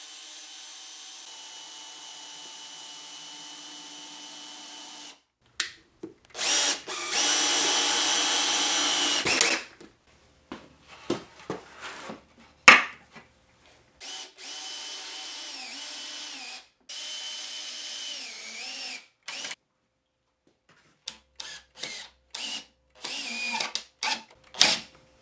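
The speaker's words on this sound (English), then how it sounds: "what I'm going to do is pre-drill it and put in some screws" A power drill pre-drills and then drives screws into the wood of a step stool. It runs in several bursts: one long sustained whir, then shorter stop-start runs and brief pulses separated by quiet gaps.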